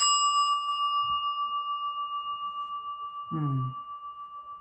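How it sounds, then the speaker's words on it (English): A single small bell is struck once, its clear tone ringing out and slowly fading over several seconds, with a soft voice sound briefly under the decay. "Play a little bell here."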